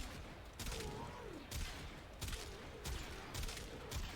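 Burst-fire shots from the Kuva Quartakk in the video game Warframe, coming as repeated short bursts about every half second over a steady din of game sound, fairly faint, with no talking.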